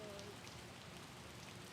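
Heavy rain drumming steadily on a tarpaulin tent, a dense continuous patter that stays even and close throughout with no talking.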